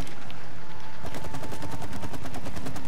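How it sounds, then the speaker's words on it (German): Rapid gunfire in the co-op video game It Takes Two, a loud, fast burst of shots that starts about a second in and keeps going steadily to the end. "Hör mal auf das drauf zu schießen, das dauert sonst echt Ewigkeiten."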